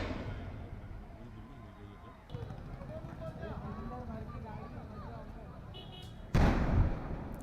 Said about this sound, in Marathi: स्फोटाचे आवाजच इतके भीषण आहेत